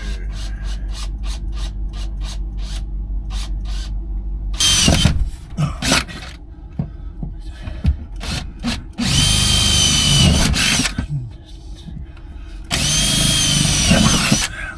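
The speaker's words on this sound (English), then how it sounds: "So what I do is I drill a series of holes all the way around it" Loud power drill bursts whining in several long runs, drilling a series of holes for a battery box in a Toyota Coaster conversion, with clattering and scraping of tool handling between them.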